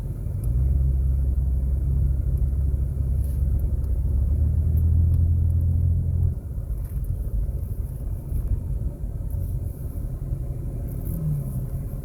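A 2003 Pontiac Grand Am on the road, its steady low engine and tire rumble continuous and fairly loud throughout, easing slightly in tone partway through, with no talking.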